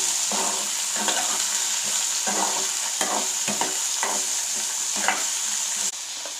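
Small bitter gourds frying with onions in a pan, a constant close sizzle with a steady hiss and repeated scraping stirs at irregular intervals, no voices.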